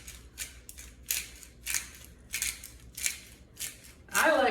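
A small handheld pepper grinder is twisted over macaroni and cheese, making a series of short crunchy grinding bursts in an uneven rhythm, close but fairly quiet, with no one speaking.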